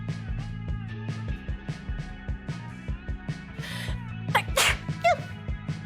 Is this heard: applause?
no